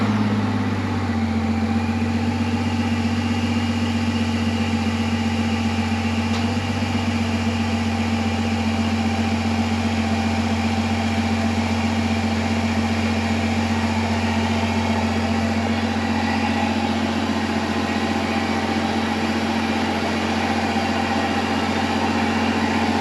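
A 3.0 Duramax diesel with an aftermarket S&B or K&N intake idles steadily, a constant low rumble with a faint whine above it, recorded from the back of the truck, with no talk over it.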